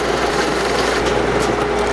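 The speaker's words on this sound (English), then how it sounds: "having a 2-inch Forstner bit in a hand drill, that can be a little bit overpowering" A handheld drill fitted with a 2-inch Forstner bit bores into wood, giving a steady, close whining grind with gritty cutting noise that runs the whole time without a break.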